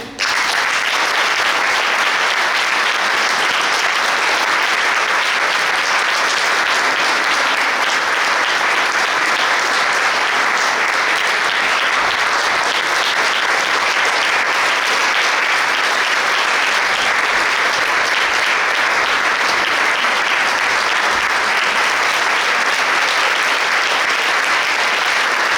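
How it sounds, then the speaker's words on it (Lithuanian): Sustained audience applause at a Lithuanian language evening awards event, dense steady clapping from a large crowd that runs without a break for the full length, loud and close with no voices over it. "Dar kartelį plojimai."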